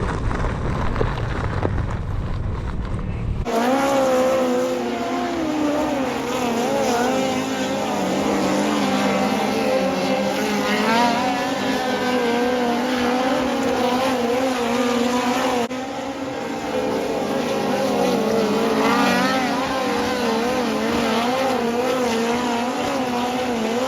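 A midget race car roars around the dirt track at Brush Creek Motorplex during an Extreme Outlaw Midgets event. The loud, continuous engine whine rises and falls as it laps, with a brief dip partway through and no voices.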